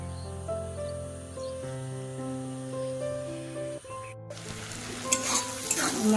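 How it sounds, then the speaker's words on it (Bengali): Spices frying in a pan ahead of chickpeas and potatoes, with a steady sizzle that turns louder and brighter partway through, joined by stirring scrapes near the end. "মশলা ফ্রাই হয়ে গেছে,"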